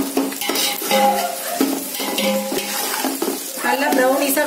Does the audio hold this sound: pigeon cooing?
no